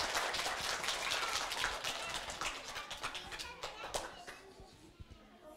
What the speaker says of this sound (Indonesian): Kasih tepuk tangan dulu buat teman-temannya.